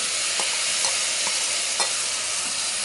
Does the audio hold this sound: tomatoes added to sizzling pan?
yes